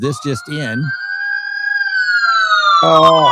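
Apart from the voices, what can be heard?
police siren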